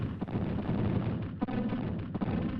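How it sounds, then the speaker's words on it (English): A long video game explosion rumbles loudly and continuously, with several sharper blasts punching through the booming roar. "Oh yeah, long explosion, not the end of the game."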